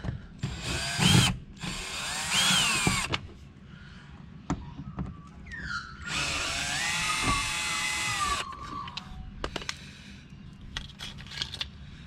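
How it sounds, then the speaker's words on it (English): A cordless power driver undoes Phillips head bolts in short whirring bursts, rising and falling in pitch as it spins, with a longer run in the middle and small clicks and knocks between, close by. "One Phillips head bolt just in here. So undo these."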